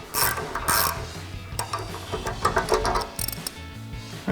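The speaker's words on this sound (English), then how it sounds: "My ratchet extension, 35mm socket." A ratchet with an extension and a 35mm socket tightens a castle nut on a 2021-2025 Ford Bronco heavy-duty rear tire carrier. Close, loud bursts of rapid clicking come in several strokes, separated by short pauses.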